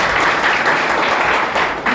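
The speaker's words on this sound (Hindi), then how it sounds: "ताली बजा दी जाए।" A crowd at a public gathering breaks into applause, many hands clapping in a thick, steady patter that stays loud and close for about two seconds, with a small dip near the end.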